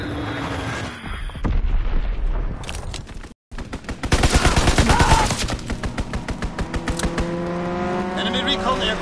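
Bomb explosions and heavy gunfire in a war video game: a deep blast, a brief silence, then dense rattling automatic fire and rumbling, with a game voice calling out over it.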